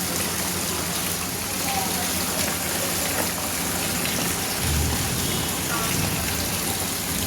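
Dense, constant rushing wash of heavy rain in Moga city, loud and unbroken from start to finish, with no clear voices.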